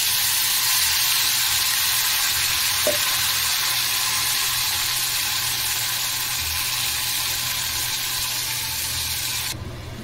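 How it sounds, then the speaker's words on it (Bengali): Whole garam masala, bay leaf and dried chilli sizzle in hot oil as a tempering, a steady close frying hiss running without a break and with no talking. "এইবারে গোটা গরম মশলা, তেজপাতা, শুকনো লঙ্কা ফোড়নে দেব।"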